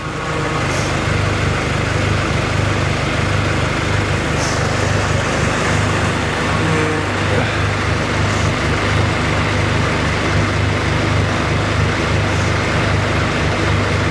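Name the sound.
Subaru BRZ power steering making noise as the steering wheel turns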